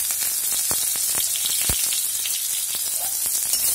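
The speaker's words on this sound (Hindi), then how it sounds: "ऑनियन को भी हम लाइट ब्राउन करके फ्राई कर लेंगे।" Thickly sliced medium onion fries in hot oil until light brown, giving a steady bright sizzle with scattered small pops and crackles and no talking.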